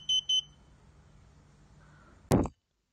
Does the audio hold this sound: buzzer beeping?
yes